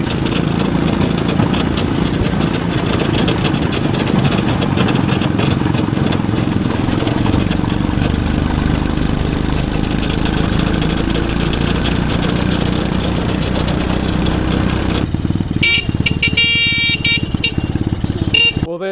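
Small engine of a mini jeep running after a carburetor repair, a loud, close, steady buzzing drone that holds for about fifteen seconds before cutting off into quieter rattles.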